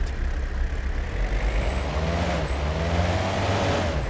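A loud, steady jeep engine roar in the hunting video game Way Of The Hunter, with deep low rumble and a rising whine, continuous throughout like a heavy vehicle driving hard.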